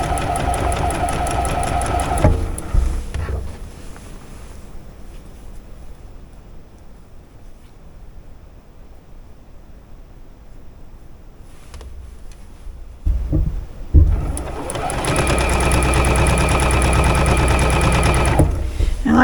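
A domestic sewing machine stitching quilt blocks for a modern quilt pattern: a loud, fast running burst, then a quiet pause, then the steady whirring resumes close by.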